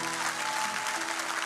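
A church congregation claps steadily during a French-language worship service, a dense, continuous wash of applause with sustained musical tones running underneath.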